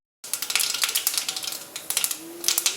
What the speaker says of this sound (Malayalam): അതിലോട്ട് ചൂടായി വരുമ്പോൾ ഒരൽപ്പം കടുക് പൊട്ടിക്കുക.